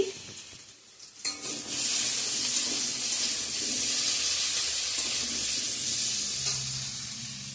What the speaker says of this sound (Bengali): এদিকে আলুটা ভেজে নিচ্ছি